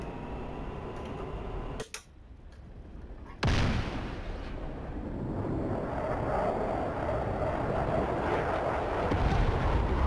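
A Maverick missile strikes its target in the DCS F-16 flight simulator game: one loud, close explosion bursts in, then a brief quiet gap, then a second heavy blast that trails into a long rumbling roar.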